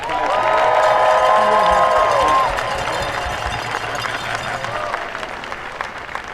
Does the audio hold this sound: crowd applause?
yes